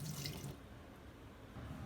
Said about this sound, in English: we want to drain the water.